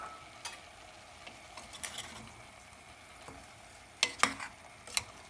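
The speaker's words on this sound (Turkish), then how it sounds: "Biraz daha kavurmaya devam edeceğim." Leeks and rice are sautéed in olive oil in a pan, giving a soft, faint sizzle broken by a few sharp stirring scrapes and clicks of a spoon near the end, with no talking.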